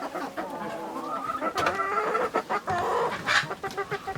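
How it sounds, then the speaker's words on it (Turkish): Egg-eating hens in a farmyard flock cluck and squawk continuously and fairly close, with rising cackles and a brief distant crow mixed in. "Sürünüzdeki yumurta yiyen tavukları bu şekilde bulabilirsiniz."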